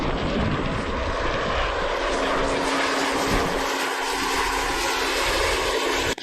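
Fixed-wing airplane engine droning steadily and loudly throughout, flying and landing on Antarctic ice, with a brief dropout at the very end.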